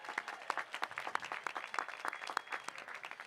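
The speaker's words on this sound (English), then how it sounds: "Yes, that's worth applause." Audience applause at a high school graduation ceremony for the class of 2022, a steady, dense patter of many hands clapping at moderate distance, sustained throughout with no speech.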